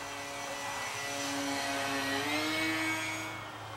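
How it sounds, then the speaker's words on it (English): XUAV Skua model aircraft flying close by on a quiet electric motor, a steady whirring drone that swells slightly and then eases, heard alone without talk. "we're actually flying some really good proximity flying with a SKUA"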